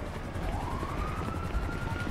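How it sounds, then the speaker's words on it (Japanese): A police car siren in a GTA roleplay video game wails as a single rising tone, fairly faint and distant beneath a loud, rumbling engine and wind background. "いや、またサイレン鳴ってる。"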